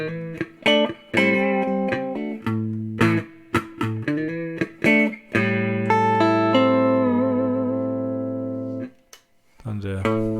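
A homemade electric guitar on both pickups through an old PV amp plays a quick riff of picked notes, then lets a chord ring out and fade before starting again.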